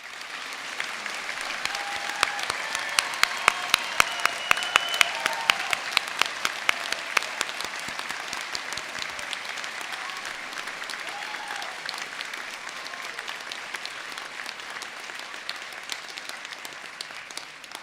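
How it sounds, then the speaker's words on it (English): Graduation ceremony audience applauding new university graduates, a long steady wash of many hands clapping in a large hall, even in loudness and unbroken throughout. "Please can I ask you to join me in a round of applause?"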